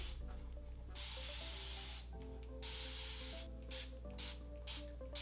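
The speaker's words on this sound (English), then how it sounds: "So I'm gonna start by spraying my entire head." A spray bottle hisses onto 4C hair in a series of short bursts, several quick sprays with brief pauses between, over a faint background hum.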